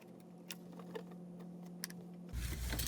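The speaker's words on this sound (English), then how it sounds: "So as I sew across this time, I'm going to sew right across that X" A sewing machine stitches straight across pieced quilt blocks for a sawtooth star, giving a steady mechanical hum with light ticking, then a louder, busier burst of machine noise near the end, with no talking.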